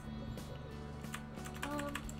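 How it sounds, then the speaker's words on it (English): Rapid typing on a computer keyboard, a dense run of light clicking keystrokes close by over a steady low background hum. "I'm using the keyboard."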